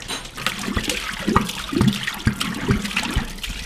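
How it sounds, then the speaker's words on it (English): Sterilizing fluid glugs and splashes out of a glass carboy in uneven gurgling pulses, poured close by with no talk. "I'm dumping out the sterilizing fluids out of the carboy so we can dump the beer into it."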